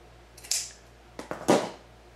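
Scissors cutting a sock for homemade wrist warmers, a few quiet close snips in quick succession, one near the start and a cluster of two or three a moment later.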